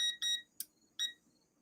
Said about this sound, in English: So that's why I have these timers.